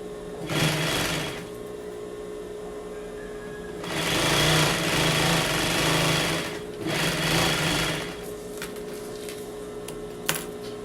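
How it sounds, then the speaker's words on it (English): A sewing machine stitches the sides of a zippered pouch bag in three bursts of steady running, the first short and the later two longer, with quiet pauses and a sharp click between them. "The last part that we're going to sew are the sides of the pouch bag."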